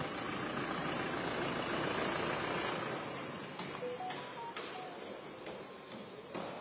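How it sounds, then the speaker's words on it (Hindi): A parked Toyota Innova sits idling with its air conditioning running, giving a steady low engine drone with a fan hiss over it. The sound drops a little partway through. "यहाँ हमें एक गाड़ी, इनोवा गाड़ी नज़र आ रही है और ये गाड़ी स्टार्ट है, खड़ी है, एसी चल रहा है इसका"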